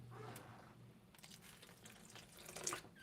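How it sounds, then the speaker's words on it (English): Water is poured from a tap into a pot of lentil and farro soup, a soft splashing trickle that stays faint and close throughout. "add a little bit of water"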